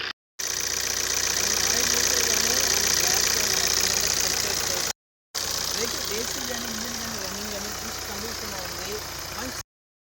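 A Tata Safari Storme's diesel engine runs steadily at idle with a knocking rumble, close and continuous, cut by a brief gap midway; no one speaks.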